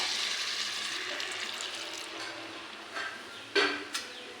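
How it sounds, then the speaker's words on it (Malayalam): Water pours steadily into a pan of Kannur-style roasted-coconut chicken curry with a continuous rushing splash, followed by a few sharp clinks of the vessel at the end. "നമുക്ക് ഇനി ഈ ചിക്കനിലേക്ക് ആവശ്യത്തിൻ്റെ വെള്ളം ചേർത്ത് കൊടുക്കാം"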